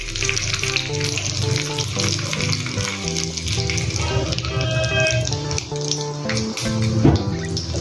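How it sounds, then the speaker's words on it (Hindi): Mustard seeds, curry leaves and dried red chillies fry in hot oil for a South Indian chutney tempering, with loud, dense sizzling and crackling. Seeds pop and spatter throughout, and a sharper burst comes near the end. "उसके लिए मैंने तेल गरम किया, इसमें अभी हम राई डालेंगे, कड़ी पत्ता डालेंगे, सूखी वाली लाल मिर्च है वो डाल देंगे।"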